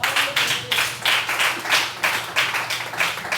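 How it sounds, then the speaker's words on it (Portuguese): A congregation claps in worship at a Brazilian church service: loud, rhythmic unison clapping with strong, evenly spaced beats that repeat steadily throughout. "As palmas cultuam ao Senhor."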